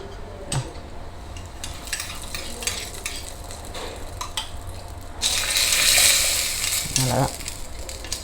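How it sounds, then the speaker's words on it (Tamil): Cashew nuts frying in a pan for milk payasam, a soft sizzle under scraping stirs and light metal clinks, then a louder burst of hissing as the frying intensifies. "பாருங்கள், முந்திரி பருப்பு வறுப்பட்டுருது."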